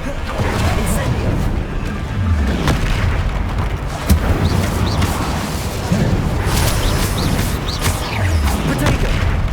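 A booming fire-spell blast in the video game Hogwarts Legacy, part of dense, continuous combat noise with heavy low rumbling and repeated impacts, loud throughout.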